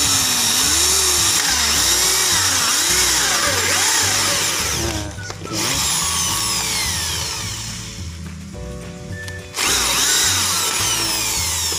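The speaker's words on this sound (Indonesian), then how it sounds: "dilubangi saja menggunakan bor seperti ini." A power drill whirs steadily, boring planting holes, its pitch rising and falling as it bores, with a couple of brief pauses before starting again.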